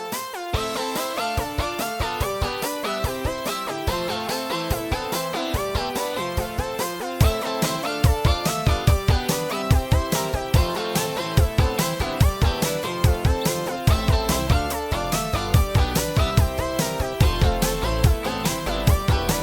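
An instrumental section of an 80s-style song produced entirely in Logic Pro, with steady driving drums, synths and bass filling the mix, a pounding low beat growing heavier in the second half; no voices.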